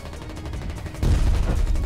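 A tank firing its main gun in the war game Foxhole, a single heavy boom that swells suddenly into a loud, low rumbling blast partway through, with no talk.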